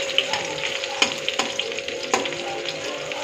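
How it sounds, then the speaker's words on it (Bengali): Onion and garlic sizzle steadily in a hot pan, a dense crackling hiss broken by a few sharper stirring clinks, close and fairly loud with no voices. "পেঁয়াজ রসুনটা একটু লাল লাল করে ভেজে নেব।"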